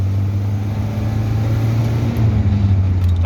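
Heard from inside the cabin, a 1974 Citroën DS21 with a four-speed manual gearbox picks up speed on tarmac, producing a steady low engine drone with a slight shift in tone toward the end.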